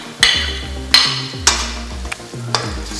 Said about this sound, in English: I'm just going to put that in and stir.